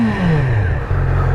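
A nearby Yamaha R6 motorcycle engine revs, its pitch dropping as the throttle eases, then settles into a deep, rumbling idle.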